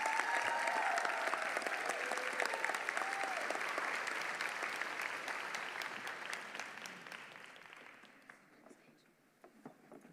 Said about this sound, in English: Let's have a round of applause for our Athletes of the Year from high school.